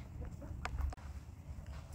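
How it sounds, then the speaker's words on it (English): Hens clucking softly close by, with a few short sharp calls over a low rumbling background. "The chickens are still around."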